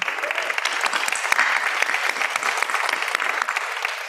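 Audience at an annual meeting clapping for the staff, a steady close wash of many hands lasting the whole stretch with no voices standing out.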